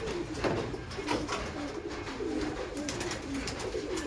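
Domestic pigeons coo steadily in a rooftop loft kept for summer flying, several birds overlapping in a continuous low, throaty murmur close by with no talking.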